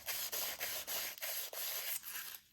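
Brake caliper part from the rear brakes of a Toyota Starlet GT/Glanza being sanded with spray oil, a steady close abrasive rubbing that runs almost continuously with brief dips in rhythm.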